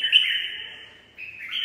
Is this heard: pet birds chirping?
yes